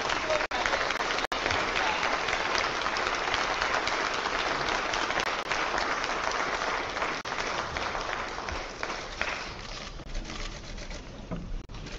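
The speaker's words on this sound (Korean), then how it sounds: "여러분 오늘 박수로 맞이해주시기" An audience at a People Power Party political event applauds to welcome presidential candidate Kim Moon-soo, a loud, sustained roar of clapping and crowd noise that fills the whole clip and eases slightly near the end.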